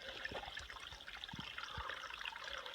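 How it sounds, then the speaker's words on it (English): A small water source on a hiking trail in the Great Smoky Mountains trickles and dribbles softly and steadily, faint and close, with a few low thuds and no voices. "Hey, there's water up here."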